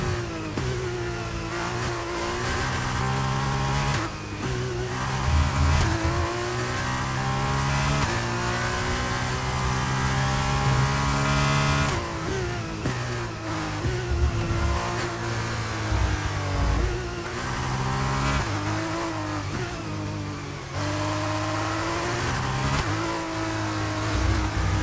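An F2 race car engine in a racing video game at a French circuit screams loudly and continuously, pitch climbing through gear changes and dropping briefly on shifts, with no talking.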